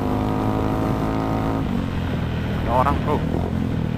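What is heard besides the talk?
Yamaha XMAX scooter with Villan MV1 exhaust, no dB killer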